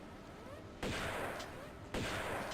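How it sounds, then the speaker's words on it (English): Two loud, close shotgun blasts in the video game Raiders of the Lost Tombs, each a sharp broadband crack with a rolling decay, spaced about a second apart, with no talking over them. "A little shotgun action for this guy."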